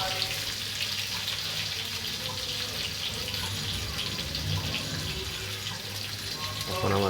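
Cut potatoes frying in hot oil in a wok for a fish curry, a steady, hissing sizzle that stays even throughout and sits close and moderate in level, with a brief clatter near the end.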